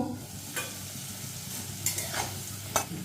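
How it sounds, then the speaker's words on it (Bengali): Potatoes fry in oil with a soft, steady sizzle, broken by several sharp scraping stirs from a spatula against the pan, close up. "আলুগুলোকে ঢাকা দিয়ে দিয়ে ভালো করে নেড়ে লাল করে ভেজে নিলাম"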